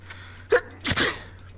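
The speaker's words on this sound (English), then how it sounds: "I sneezed." A character in the video game Dying Light: The Following lets out a short sneeze, a quick sharp intake followed by a burst, heard alone over a faint steady hum.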